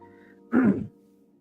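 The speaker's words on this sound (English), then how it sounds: "I've been coughing quite a bit." A single short throat clearing with a slight cough, close and fairly loud, standing alone against a quiet background hum.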